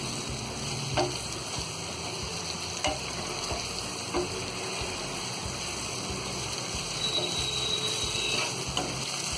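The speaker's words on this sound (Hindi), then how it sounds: "गैस को हम थोड़ा सा तेज करेंगे और इसे चलाते हुए अच्छी तरह हम भून लेंगे।" Achari bhindi, an okra masala, fries in a pan over high gas with a steady, loud sizzle, while a spoon stirs it and scrapes or taps the pan in a few sharp clicks.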